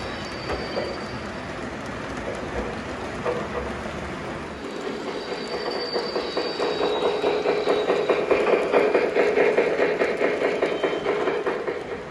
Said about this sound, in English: as the train moves, you get that nice kind of freight sounds effect